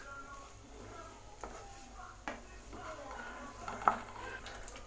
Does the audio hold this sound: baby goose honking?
no